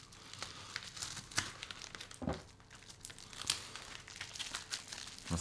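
Packing material from a heavily stuffed Amazon package crinkles and tears as it is pulled apart, a close, continuous stream of crumpling rustles with sharper rips, no speech over it.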